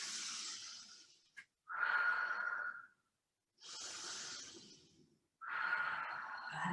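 Deep breathing during a Pilates exercise class: four long, airy breaths, each about a second or more, separated by short pauses, close and fairly quiet, with no talking.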